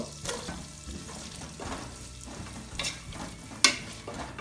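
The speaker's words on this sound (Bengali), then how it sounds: "মিডিয়াম হিটে পেঁয়াজটাকে ভাজি করে নিব" Chopped onions frying in butter in a pan over medium heat, giving a steady soft sizzle broken by repeated stirring scrapes and one sharp clink, with no talking.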